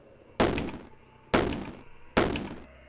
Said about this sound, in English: Oh, they're shooting at each other.